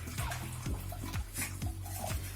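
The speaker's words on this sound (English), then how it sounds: "I'm going to use hot water, putting it in a bigger bowl." Hot water is poured into a bigger bowl for melting chocolate, giving a steady liquid splashing and trickling sound with a few repeated pulses throughout, fairly close and with no talking.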